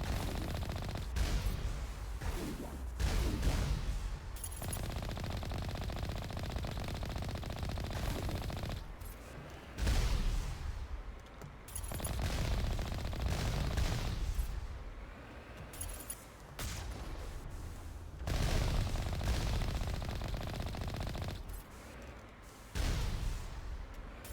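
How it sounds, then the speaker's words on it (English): Sustained bursts of automatic gunfire with booming impacts from a Mass Effect firefight, loud and dense, broken by short pauses between volleys. "Stop shooting me!"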